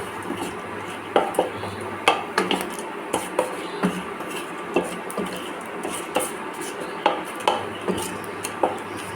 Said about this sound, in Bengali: লবঙ্গ আর এলাচ দিয়ে এটাকে আমি ভালো করে নেড়ে নেব যতক্ষণ পর্যন্ত একটা বেশ সুন্দর স্মেল না আসে